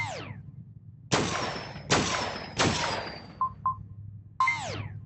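Single shots from a gun in a VR shooting game, set to single fire with a laser sight: three sharp, separate bangs about a second apart, followed by short electronic blips and a ringing zap, with no talk.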